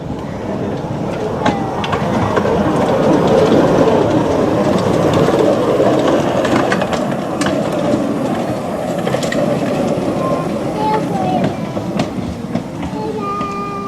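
A train rumbles steadily past at close range at a heritage railway gala at Amberley Museum, with rattling wheels and occasional high squeals over a constant loud roar.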